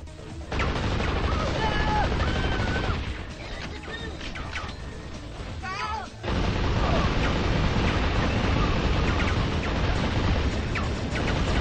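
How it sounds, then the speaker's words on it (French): Gunfire from enemies shooting at the player in Metal Arms: Glitch in the System, steady clatter and crashes mixed with game sounds and music throughout, with brief talk over it. "Qui nous tire dessus?"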